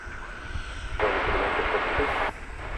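An American Airlines jet on runway 18 left at Dallas/Fort Worth Airport at night: a steady broad engine roar swells abruptly, holds loud for over a second, then drops back to a lower distant rumble.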